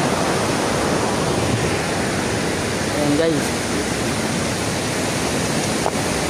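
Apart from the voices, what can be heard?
water flowing over Wawa Dam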